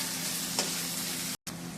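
Potatoes sauté in a pan with tomatoes for a poori side dish, giving a steady close sizzle and hiss with a brief scrape of stirring and a momentary cut near the end.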